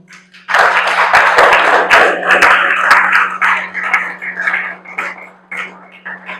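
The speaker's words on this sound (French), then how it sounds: "je demande aux membres de la famille Moni de s'élever sous vos applaudissements" An audience gives a burst of applause for a family standing at a ceremony, with sharp close claps rising quickly and then thinning out over a few seconds.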